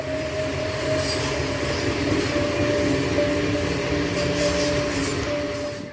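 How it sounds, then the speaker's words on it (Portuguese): A train rolls past houses near the track, a loud continuous rumble with wheel noise and a steady tonal whine that keeps an even level throughout before easing slightly at the end. "quando os trem passam, ela balança todinho"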